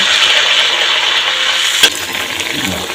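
Konkan-style jackfruit vadas fry in hot oil with a continuous bright crackling sizzle, close and loud, broken by one sharp click near the end before the hiss carries on.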